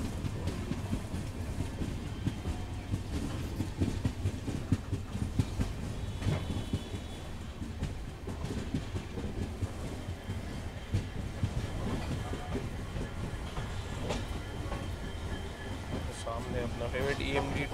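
Rail travel behind an Abu Road-based ALCO WDG 3A diesel locomotive fills the clip with a continuous low rumble and faint clickety-clack of wheels, steady and moderately loud throughout.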